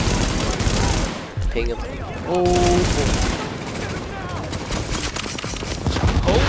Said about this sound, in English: What kind of light machine gun is that?